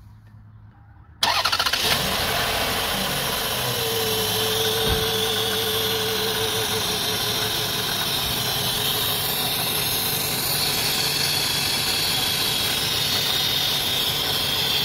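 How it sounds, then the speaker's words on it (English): Lexus RX300 engine with its PCV valve removed, cranking and starting after a second of quiet, then settling into a steady close idle with a constant hissing air leak over the rumble. "let's start the engine without it."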